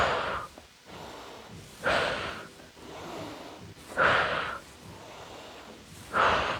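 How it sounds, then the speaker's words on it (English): Rhythmic inhales and exhales during a core Pilates exercise with a dumbbell, four breathy bursts at roughly two-second intervals, close and fairly soft, with no talking. "Inhale, exhale."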